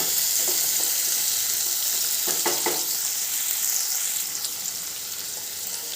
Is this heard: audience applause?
no